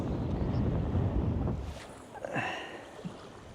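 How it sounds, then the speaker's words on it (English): Wind gusts over a lake during a fishing outing, a broad, rushing buffet that fades down partway through, leaving faint water and boat sounds. "Wind picked up again."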